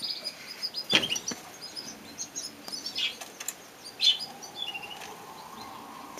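Canaries and other small birds flutter into an aviary, with a burst of wing flapping near the start and another around four seconds, and scattered chirps over a steady background.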